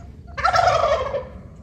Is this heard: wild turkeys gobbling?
yes